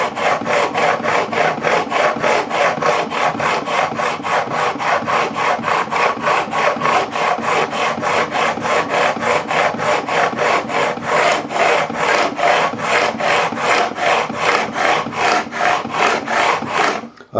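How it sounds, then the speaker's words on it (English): Guitar frets on a Harley Benton single-cut electric being filed along the fingerboard radius: steady, rhythmic rasping strokes, close and loud, repeating evenly about three times a second throughout. "I also need to concentrate the filing a bit shorter and more filing at this end, because the frets are closer together"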